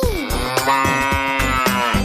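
A calf moos in a long, drawn-out call over a cheerful musical backing with regular rhythmic beats.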